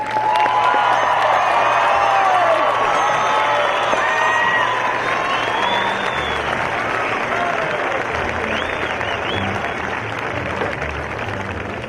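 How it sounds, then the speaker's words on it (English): Graduation crowd at a college commencement applauding a graduate, sustained clapping mixed with whoops, cheers and scattered shouts, full and lively throughout. "Let's give him a large round of applause."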